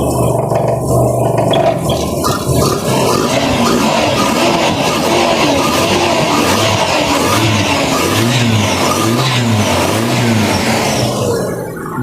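A car engine revs steadily at close range, its pitch rising and falling in repeated surges over a continuous mechanical drone.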